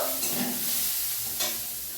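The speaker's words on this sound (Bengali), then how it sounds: "তেলটা দিয়ে আমি এটাকে পুরো ভাজা ভাজা করবো" Continuous hissing sizzle of onion frying in oil in a pan, punctuated by a couple of stirring scrapes, close and fairly loud.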